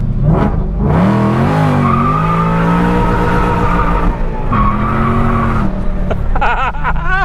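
A 1967 Shelby GT500 Mustang squeals its tires hard, a loud, continuous wailing skid with shifting pitch that lasts several seconds before breaking into shorter chirps at the end.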